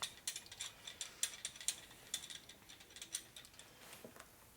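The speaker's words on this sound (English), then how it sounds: "So that's the dowel pin puller." A dowel pin puller on a 1961 Harley-Davidson Sportster XLCH transmission clicks in repeated ratcheting strokes, faint and close, in an uneven rhythm of sharp metallic ticks.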